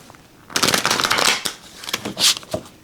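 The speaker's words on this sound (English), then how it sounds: "do one more shuffle." Rapid riffling and flicking of a tarot card deck, several bursts of crisp papery shuffling close by, with a brief pause between rounds.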